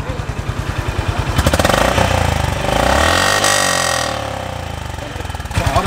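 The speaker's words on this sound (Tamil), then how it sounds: "ஸோ இதோட இப்போ நம்ம எக்ஸாஸ்டும் இப்போ கேட்டுருவோம்." Honda CB350 RS motorcycle exhaust, loud and close, thumping at idle and then revving up and settling back down in a steady single-cylinder beat.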